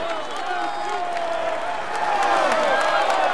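Audience applause and cheering for a cycling stage winner, a steady dense wash of clapping from a crowd that swells slightly toward the end, with an announcer's voice running over it.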